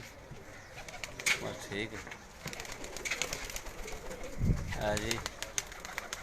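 Pigeon cooing at a rural gathering place, low soft coos heard faintly among background chatter and voices, with people talking throughout.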